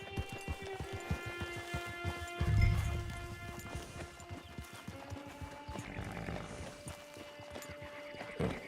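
Horse ridden in the video game Red Dead Redemption 2: steady rhythmic clip-clop of hooves at a trot, with a brief snort or whinny, over a faint game soundscape.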